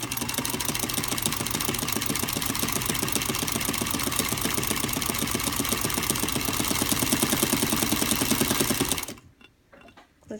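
A sewing machine with a Zig Zagger attachment runs at a fast, even stitching rhythm for about nine seconds, loud and close, then stops abruptly, leaving near silence.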